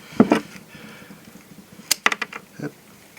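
Connector wires inside an electric motor from a welding machine being cut: a few soft handling rustles, then a quick run of sharp, close clicks and snips clustered together near the end.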